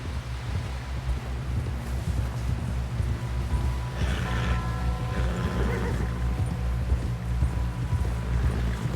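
Horse in Red Dead Redemption 2 whinnies clearly midway while hooves clip-clop in a steady rhythm underneath, with low wind and rustling in the background.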